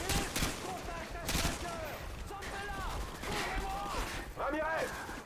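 Gunfire in Call of Duty: Modern Warfare 2, with repeated sharp broadband bursts through the clip and in-game voices and talk mixed over the shooting.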